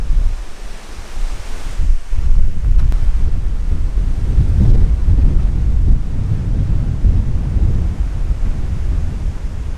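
Strong wind buffets a camper van parked in the bush. Loud, continuous roaring gusts surge and rumble for about ten seconds, with no voices.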